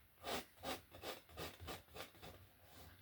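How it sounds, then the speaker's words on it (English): A palette knife scrapes excess oil paint in a rhythmic series of about eight soft rasping strokes, close and fairly quiet, with no talking. "Just going to scrape off the excess."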